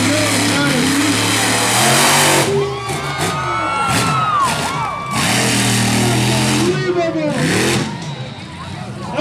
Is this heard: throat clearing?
no